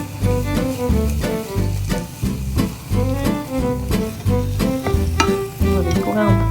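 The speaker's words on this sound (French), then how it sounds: "Ça fait un peu dorer l'ail. Ensuite, je mets les oignons." Garlic and onions frying in a pan on a home stove, a steady close sizzle that keeps going under a loud musical backing with no talking.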